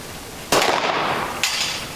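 Gunfire at a shooting range: two sharp shots about a second apart, the first loud with a lingering echo, the second a little softer.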